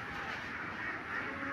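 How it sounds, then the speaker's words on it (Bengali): Ducks at a duck farm quack in a busy, continuous chorus of overlapping calls, moderately distant and fairly faint, with no talk. "এখানে সবগুলা হাঁসের খামার। দেখেন প্রচুর হাঁস"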